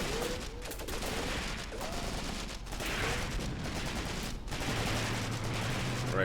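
Continuous battlefield gunfire in the war video game Graviteam Tactics: Mius Front, with dense overlapping rifle and machine-gun bursts forming a loud, unbroken roar throughout.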